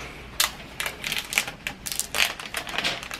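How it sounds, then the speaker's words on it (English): Plastic wrap is peeled off an iPhone 12 box in a close run of crisp crackles and sharp snaps that come in irregular bursts. "I'm gonna begin by peeling the wrap."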